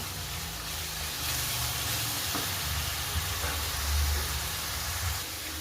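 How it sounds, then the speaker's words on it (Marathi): Masala paste with ginger and garlic fries in hot oil for a pea and potato curry, giving a steady, close, full hiss of sizzling that holds evenly throughout with a few soft pops and stirring scrapes, with no talk. "अरे बघा मस्त फ्राय होतोय आता"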